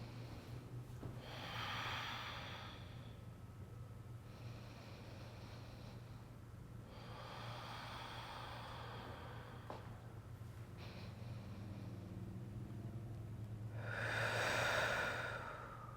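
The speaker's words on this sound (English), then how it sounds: "we'll go ahead and fill 3 nice, long, smooth, deep breaths here" Slow, deep yoga breaths, long airy inhales and exhales in several drawn-out swells with pauses between, close to the microphone over a low steady hum.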